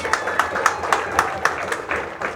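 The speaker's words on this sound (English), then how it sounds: "Big cheer there for Harley." A crowd cheers and claps at a four-wheel-drive RC car racing final at the BRCA Nationals in Herts, UK, a fairly loud wash of applause with regular sharp clap peaks throughout.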